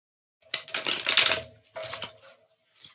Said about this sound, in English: So keep shuffling and then pull a card.